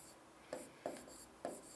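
Marker or chalk strokes on a classroom board during a probability lesson, three distinct scratchy writing strokes in a faint, quiet room with no talk.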